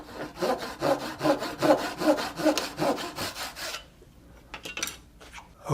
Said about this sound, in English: I've got a little miter box here that I'll use to cut this.